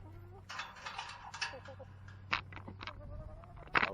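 Chickens in a farm pen make a run of scattered short clucks and squawks at close range over a steady low hum, with one louder burst near the end.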